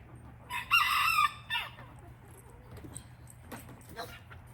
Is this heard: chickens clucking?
yes